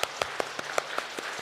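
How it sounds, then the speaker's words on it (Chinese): Sparse, separate claps in a church congregation, roughly five per second, fairly faint and slightly reverberant, sounding like a few people clapping rather than a full crowd. "我们再次用最热烈的掌声，谢谢吴牧师今天的培灵会"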